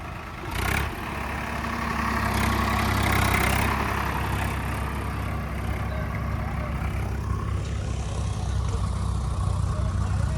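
A tractor engine idles steadily with a low, continuous rumble while doing work at an akhara, with people talking over it throughout.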